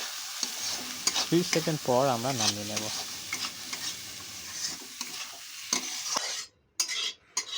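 Okra and egg bhurji being stirred in a kadai over a lowered gas flame, with a steady oily sizzle and scraping spoon strokes, a brief tonal clang mid-way and short speech near the end.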